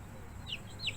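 Eight-day-old hybrid laying-hen chicks cheep in two short, faint, high peeps against a steady background hum, with no voices.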